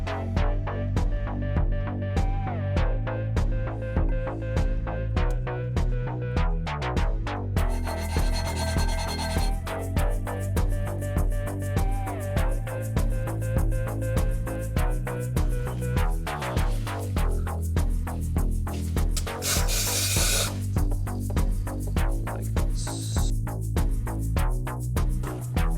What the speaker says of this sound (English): Scotch Brite, like on here, try not to touch the mating surface, but just to get off the carbon